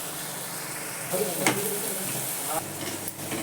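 Spices and turmeric sizzle in a hot pan while a home cook prepares a moong dish, a steady close frying hiss with brief stirring scrapes and no talk.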